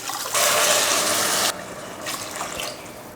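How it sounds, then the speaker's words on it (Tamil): A steady gush of water pours into a pressure cooker of tempered rice for about a second, then stops, followed by faint splashing and trickling. "இப்போ தண்ணி சேர்த்துக்கலாம்."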